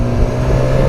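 A BMW S1000 XR motorcycle engine holding steady power on a road ride, a continuous loud drone with heavy wind rush, lasting under a second.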